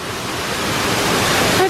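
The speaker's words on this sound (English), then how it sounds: "As soon as we came out, it's this beautiful waterfall." Steady, full rush of falling water from an indoor waterfall in a large hotel atrium, continuous and fairly loud throughout, with a faint brief tone near the end.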